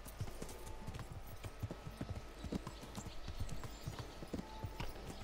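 Horse hooves clip-clop steadily on the ground in the medieval video game Kingdom Come Deliverance, a brisk, repeated patter of clear, close hoofbeats with no talking.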